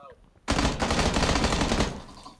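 Enemy automatic gunfire in PUBG, a sudden close burst of rapid shots lasting about a second and a half, loud and dense, then trailing off.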